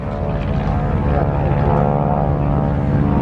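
A propeller warbird, an SNJ Texan at an air show on the beach, drones steadily with a buzzing, throbbing engine tone, moderately loud and continuous throughout.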